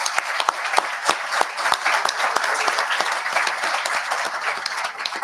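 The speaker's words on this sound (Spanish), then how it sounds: "¿Le damos un aplauso?" Audience applause at an industrial engineering innovation conference, with individual sharp claps standing out over a sustained, moderately loud round of clapping that continues evenly for several seconds.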